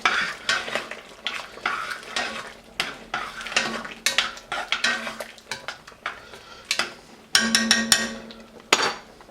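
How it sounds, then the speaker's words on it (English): A spoon scrapes and clanks against a pot while chopped ham is stirred into thick split pea soup, making close, irregular metallic knocks and sloshing, with no talking. "Stir that in."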